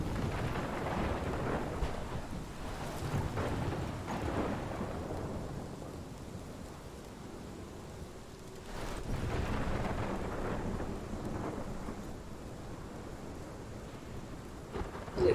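A thunderstorm rolls through the Life Is Strange video game: steady heavy rain with deep rumbling thunder that swells and fades over about fifteen seconds, no talking.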